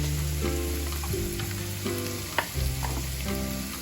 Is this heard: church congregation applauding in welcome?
no